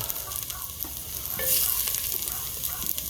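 Onions sautéing in a hot pan, a close, busy sizzle with scraping stir strokes that swell into a louder hiss midway and stay steady to the end.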